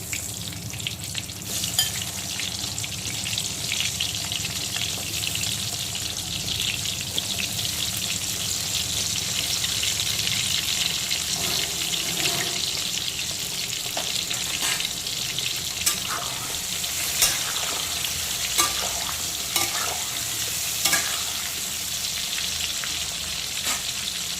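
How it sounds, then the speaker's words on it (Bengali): Salted, turmeric-coated papaya pieces fry lightly in oil left over from frying potatoes, giving a steady, loud sizzle with occasional stirring clicks and crackles throughout, and no talking. "এখন এই আলু ভাজার তেলেই দিয়ে দেব লবণ আর হলুদ মাখানো পেঁপে।"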